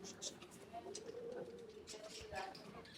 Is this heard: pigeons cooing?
yes